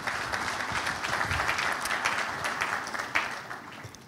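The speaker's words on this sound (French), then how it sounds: "On peut les applaudir. Bravo pour cette organisation." An audience at an official opening ceremony applauds in a continuous, moderately quiet patter of many hands, steady before tapering slightly at the end.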